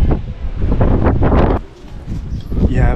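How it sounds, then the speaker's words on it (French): Heavy gusts buffet the microphone in loud, rumbling bursts outdoors in Nador, Morocco, with a brief lull before the roar picks up again. "Il y a un vent de fou."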